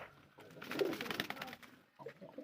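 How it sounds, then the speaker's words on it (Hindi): Pigeons coo in soft, low, rolling calls close by, faint overall, with a brief lull before the cooing resumes. "ये देख सकते हैं हमारे कबूतर यही हैं इस तरफ।"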